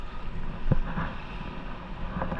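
Strong waves churn around a small boat on open water, a steady rushing wash with wind buffeting the microphone and a few sharper slaps against the hull.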